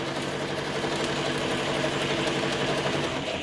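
Sewing machine stitching a fabric playing card holder, a steady fast whirring hum with faint rhythmic ticking, continuous and even throughout.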